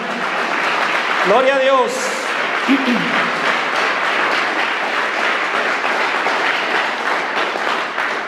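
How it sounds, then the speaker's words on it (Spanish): A church congregation applauds in worship during an evangelical Spanish-language service, a dense, continuous wash of clapping throughout, with a brief spoken exclamation near the start. "Denle una ofrenda de aplausos al Señor"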